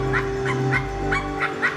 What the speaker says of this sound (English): Sparky is Yappy.